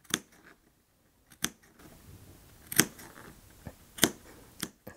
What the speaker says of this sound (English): I'm just going to take my scissors and clip very close to that seam.